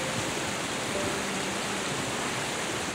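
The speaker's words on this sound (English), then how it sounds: "I think that's a waterfall." Steady, dense rushing of a waterfall in the video game Minecraft, a continuous broadband roar that stays even and unbroken throughout, with no voices.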